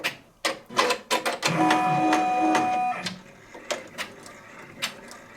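A multi-needle home embroidery machine trims its thread with a few quick clicks, then runs a steady mechanical whir while stitching a placement line before stopping into softer scattered clicks.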